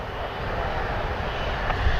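Continuous broadband roar of a Boeing Dreamliner's jet engines at Toronto Pearson airport, loud and steady throughout with no talking.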